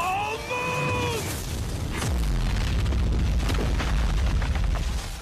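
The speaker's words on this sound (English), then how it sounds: "the results of which lead to more explosions than we thought possible." Anime battle explosions: a rising whine gives way to a heavy boom, followed by sustained rumbling and crackling debris, loud and close.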